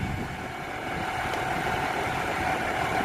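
A Massey Ferguson 7616 tractor engine idles nearby, a continuous low rumble with a faint mechanical hum and no voices.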